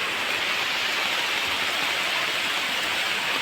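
Heavy rain pours down on farmland in a constant, dense hiss, steady and uninterrupted throughout, with no voices.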